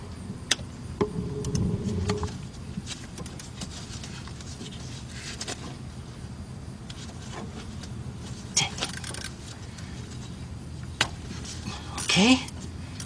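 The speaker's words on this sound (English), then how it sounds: "So I got my 5/8 1/4 inch drive socket here." A 1/4 inch drive ratchet with a 5/8 socket works a battery cable nut on a 1981 Chevy G10 van, sounding as sparse, quiet ratcheting clicks with occasional metallic taps.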